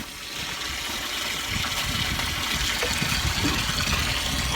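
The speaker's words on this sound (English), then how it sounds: "So the good news is I'll be able to fill this up." Water gushing steadily into a farm water trough while it is prepared for snowfall, a constant close rushing and splashing flow with no talk.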